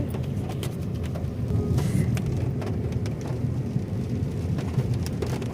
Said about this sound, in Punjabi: ਅੱਜ ਬੂੰਦਾ ਬੰਦੀ ਹੋ ਰਹੀ ਹੈ